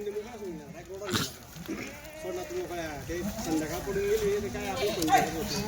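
Goats at a farm bleat repeatedly as they are brought out of their shed, several overlapping cries rising and falling close by, with people talking throughout.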